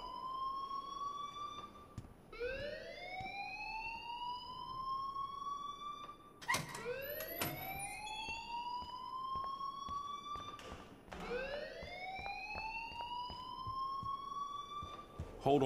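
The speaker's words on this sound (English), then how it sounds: "please turn off that alarm" A siren-like alarm wails in Life is Strange, rising sweeps repeating every few seconds, loud and steady, with sharp clanks between the cycles.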